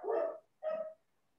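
A dog gives two separate barks about half a second apart, then goes quiet. They sound muffled and somewhat distant, with no talking over them.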